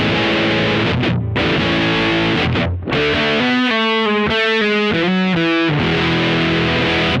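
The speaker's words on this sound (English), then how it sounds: "Back to the regular muff sound." Heavy muff-style fuzz distortion from a Boss OD200 on electric guitar, sustained chords and a run of choppy single-note riffing, loud and saturated throughout with brief pauses, no talking.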